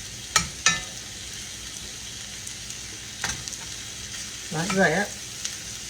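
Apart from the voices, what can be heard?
flour stirred into sizzling hamburger grease in a pan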